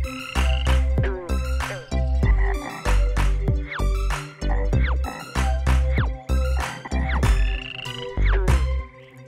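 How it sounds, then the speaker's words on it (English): Loud, close frog croaks repeating in quick bursts, a rhythmic series of throaty calls filling the whole stretch. "A green frog ribbits real loud"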